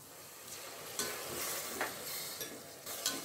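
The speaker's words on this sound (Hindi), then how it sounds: "सारे मसालों को हम अच्छे से मिक्स कर लेंगे।" A spoon stirs spices and vinegar into chicken fried rice in a hot pan, with soft scraping strokes over a low steady sizzle, close and without talk.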